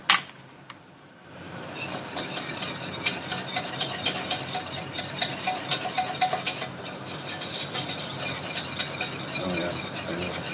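A spoon scrapes and stirs flour into melted butter in a pan for a béchamel, a steady, rhythmic rasping swirl repeating close by for several seconds after a brief knock at the start, with no talking.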